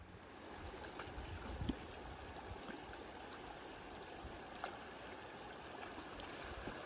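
Creek water flows steadily throughout, a continuous broad rushing and trickling wash, moderately close, with a couple of faint brief knocks and no talking.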